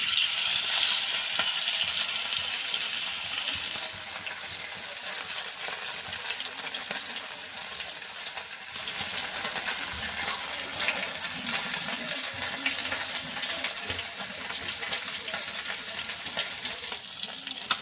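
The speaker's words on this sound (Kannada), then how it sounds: "ಈಗ ಇದನ್ನು ಫ್ರೈ ಮಾಡ್ಕೊಳ್ಳೋದಕ್ಕೆ ಎಣ್ಣೆನ ಇಟ್ಕೊಂಡಿದ್ದೀವಿ ಎಣ್ಣೆ ಕೂಡ ಬಿಸಿಯಾಗಿದೆ" Marinated fish fries in hot oil, giving a steady, dense crackling sizzle that stays close and fairly even throughout, with no talking over it.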